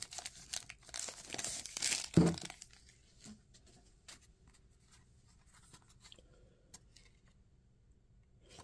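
Wrappers on 1990 Fleer NFL card packs crinkle and tear close by for about two seconds, then only faint ticks and rustles remain in near silence.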